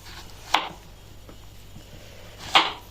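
Two crisp knife chops through marrow on a cutting board for pickling, close and distinct, about two seconds apart, with quiet room tone between.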